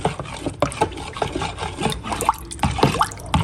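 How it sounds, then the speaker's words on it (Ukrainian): Salt brine poured over cucumbers in a jar, a close, continuous splashing and trickling of liquid with small knocks and gurgles as the jar fills, no voices over it. "і заливаємо наші огірочки"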